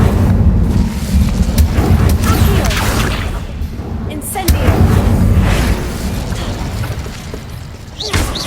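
An Incendio fire spell erupts in the Hogwarts Legacy video game, a loud continuous roar of bursting, popping impacts and booms layered over a heavy low rumble throughout.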